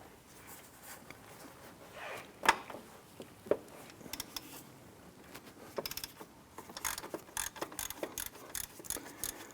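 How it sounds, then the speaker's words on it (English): A ratchet with a 14mm shallow socket works on the timing belt tensioner center bolt of a 2004-2008 Acura TL, giving scattered clicks and a few sharper metallic knocks, close and fairly quiet. "Using a 14mm shallow socket in our ratchet, we want to go ahead and remove our tensioner center bolt here."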